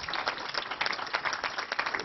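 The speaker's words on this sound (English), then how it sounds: "Just a huge round of applause, please." An audience at a hardware hacking conference talk claps in a steady round of applause, a moderately loud, even patter of many hands.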